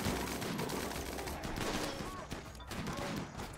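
Sustained rapid fire from allied gunners in a video game, a dense continuous rattle of shots that stays loud throughout with slight dips in intensity.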